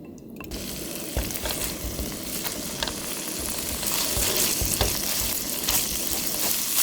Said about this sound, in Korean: 열한 다음에 양념해 놓은 고기를 먼저 볶을 거예요.